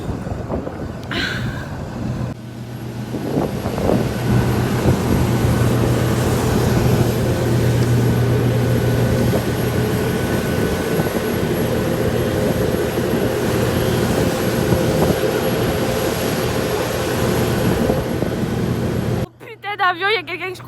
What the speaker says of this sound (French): Donc les gars, je vais prendre l'avion.